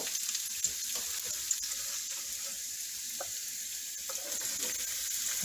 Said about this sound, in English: and saute with some onions before I add the eggs